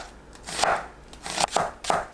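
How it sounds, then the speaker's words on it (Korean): A knife cuts onion into thin strips on a board, giving three or four crisp slicing thuds spaced unevenly, close up and alone. "양파를 채 썰어주세요."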